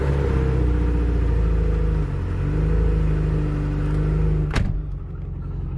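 A Subaru Impreza 2.5RS GC8 with a newly installed electronic boost controller idles steadily, a loud, close, continuous engine rumble with a low hum, broken near the end by a brief sharp click or clunk before the idle carries on.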